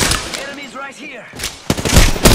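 Rapid bursts of gunfire from enemies in the shooter game Apex Legends crackle near and loud, opening and closing the moment, with a voice speaking between the volleys.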